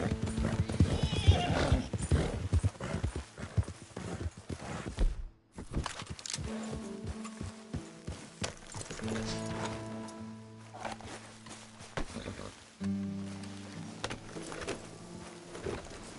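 Horse hooves clip-clop in a PS4 video game, with steady rhythmic hoofbeats alongside a neigh, mixed with game sounds and a brief voice, ending in a short pause before the hoofbeats resume.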